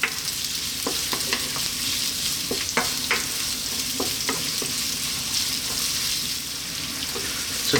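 Sliced onions sizzle steadily in a pan over high heat, with sharp scraping and clacking as they are tossed and stirred around, the frying hiss constant underneath.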